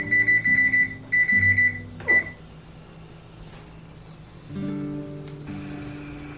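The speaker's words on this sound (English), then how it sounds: "setting the timer for 10 minutes" A kitchen timer set for 10 minutes during green bean canning beeps in three rapid bursts of repeated high electronic chirps, the third cut short, followed by quieter tonal hum and background kitchen noise.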